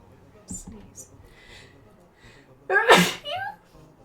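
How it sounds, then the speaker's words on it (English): One loud, sharp human sneeze bursts out close to the mic, followed by a breathy exhale, with faint quiet background sounds before it. "Sneeze."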